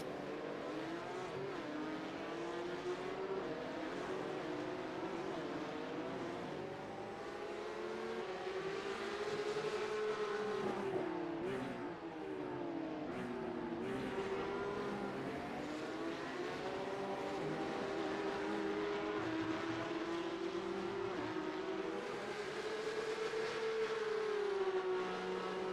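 Porsche Carrera Cup race cars lap the Nurburgring GP circuit in a sim racing game, engines droning continuously with wavering, rising and falling tones as they chase and defend position, heard alone without talk.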